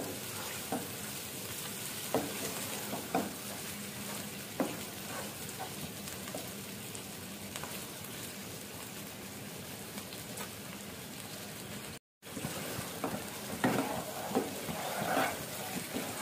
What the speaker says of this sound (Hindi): मटन अच्छी तरह से भून गया है